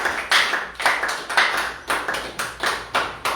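A church congregation at a Sunday service claps in a steady, even rhythm, about three claps per second, loud and close, with no voices audible over the clapping.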